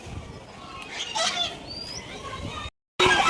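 A goose honks a few times at a temple outing, fairly faint and mixed with outdoor background noise. A brief silent gap follows, then louder rustling.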